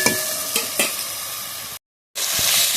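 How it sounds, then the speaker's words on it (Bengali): Onions frying in a pan for an egg curry, a steady bright sizzle with a few stirring scrapes, a short silent gap, then the sizzle returns just as loud and close. "পেঁয়াজটা ভালোভাবে ভেজে নিয়েছি"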